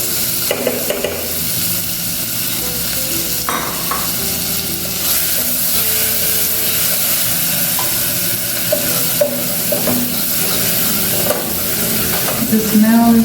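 Onions sizzle steadily as they fry in a pan for a tomato sauce, while a spoon stirs them with repeated scraping and clinking.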